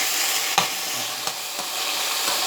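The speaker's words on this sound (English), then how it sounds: "Now I started frying the beef now" Steady crackling sizzle of beef frying in batches in hot oil for a stir fry, with a few sharp clacks of a utensil stirring the pan.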